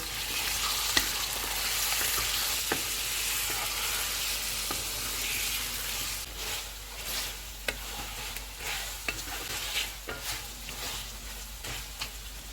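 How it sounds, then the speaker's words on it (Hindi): Mutton sizzles steadily in a hot pan on full flame while a utensil scrapes and clacks against it in irregular stirring strokes, close and clear. "चूल्हे को फुल रखेंगे और इसको 6 से 7 मिनट तक भूनेंगे।"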